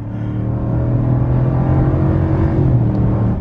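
A 2019 Ram pickup's engine is held at full throttle with the pedal floored, giving a loud, sustained, close-up roar that climbs slightly in pitch. It plays alone, with no voices.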